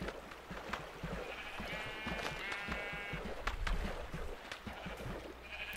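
Sheep bleat in the Minecraft video game, a few short wavering calls standing out over faint background game noise, fairly quiet overall.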